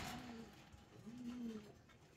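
Pigeons on a farm, including female Red Neck Budapest birds, give a few soft, faint coos with a quiet background hum.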